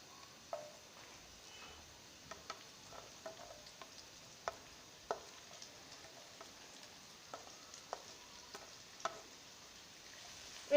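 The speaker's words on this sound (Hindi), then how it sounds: "तो इसको हम लोग लाइट सा फ्राई कर लेंगे।" Chopped onion fries lightly in a pan for macaroni, giving a soft, faint sizzle with scattered light clicks and taps of stirring throughout.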